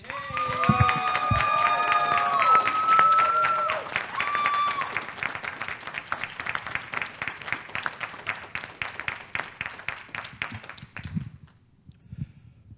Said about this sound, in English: Please join us in giving the Bellevue College Neurodiagnostic Technology class of 2023 a round of applause.